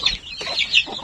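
Free-range chickens cluck in short bursts inside a coop, several close, fairly loud calls spread across about a second with no talk.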